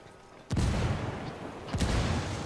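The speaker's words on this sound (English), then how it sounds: "Taking heavy fire." Gunfire and explosions from a shooter video game: two heavy, booming blasts about a second apart, each trailing into a dense rumble of continuing fire.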